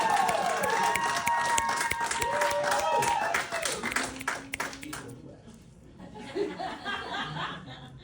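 An audience claps at a fall poetry workshop as a poet walks up to the mic. Brisk clapping with laughter rings out, then thins and fades, and voices chatter underneath.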